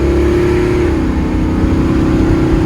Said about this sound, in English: Three-quarter throttle.